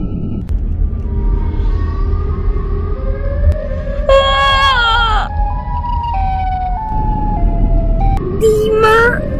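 A Siren Head creature sounds a loud wailing siren with rising and falling pitch, heard in bursts over a rumbling low background.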